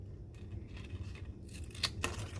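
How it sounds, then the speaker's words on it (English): Scissors cutting scrapbook paper at a sharp angle, a soft crisp snipping and tearing texture with two brief louder snips near the end, heard close over a low background hum. "With the scissors, I'm now going to cut it."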